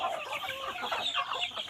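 Chickens on a farm cluck and chatter continuously at close range, several birds overlapping in busy, uneven calls with no talking.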